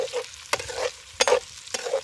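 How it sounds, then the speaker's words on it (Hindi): Onions frying over a wood fire in a village pot, stirred in three distinct scraping bursts against a steady close crackling sizzle. "तो अभी इसमें हम प्याज डालेंगे"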